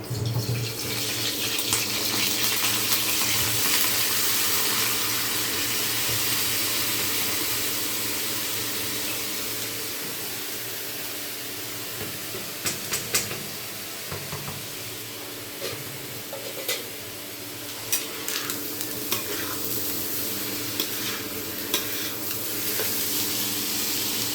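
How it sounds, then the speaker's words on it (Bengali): Soaked rice hits hot oil in a pot for chicken biryani, a loud hiss that settles into a steady sizzle, broken by scattered scraping and clinks as it is stirred, with no talking. "তো তেল গরম হয়ে গেছে বন্ধুরা, আমি এখানে দিয়ে দিচ্ছি চাল"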